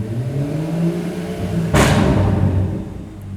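A BMW M240i in sport plus mode gives one sharp, loud rev that swells suddenly partway through over a steady engine drone, then settles back, heard close up.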